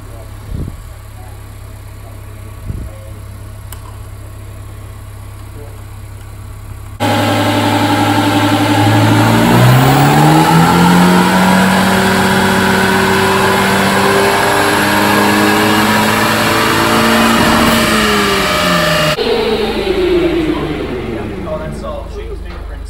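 A 2018 Honda Accord with downpipe, intercooler and flash tune revs hard on a dyno, a loud sustained engine roar climbing through its range for about twelve seconds before easing off, with quieter shop noise before and after.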